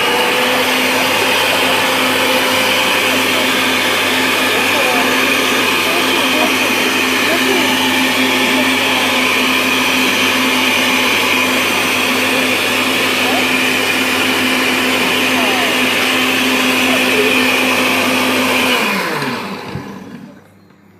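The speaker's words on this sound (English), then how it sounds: "Putting the seed of the lime or the lemon in there, and then we're going to use the blender." Blender whirring steadily at high speed while crushing lime or lemon with its seeds, a loud droning motor for about nineteen seconds before spinning down and stopping.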